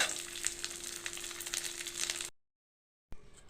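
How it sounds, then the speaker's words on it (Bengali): A rice-starch papad fries in hot oil, a faint, crackling hiss of bubbling that runs steadily for a couple of seconds, then cuts to silence before a brief return, with no talk. "এইভাবে আমি সম্পূর্ণ পাঁপড়টা ভেজে নিব"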